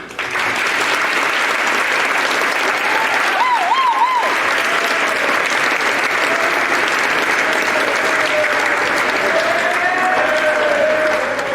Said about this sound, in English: Please applaud this year's homecoming royalty.